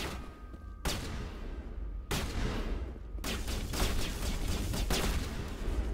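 Sniper fire in the sci-fi video game Mass Effect Legendary Edition, several sharp loud shots spaced a second or so apart, then rapid repeated blasts amid dense battle noise.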